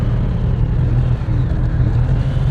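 A Honda CB1000R motorcycle accelerates in first gear, its engine giving a close, loud, steady low rumble that holds for the whole short stretch.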